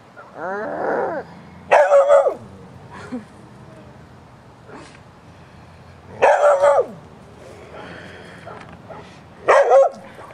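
A dog lets out a few loud, harsh barks and growls spaced several seconds apart, near, with brief talking in between.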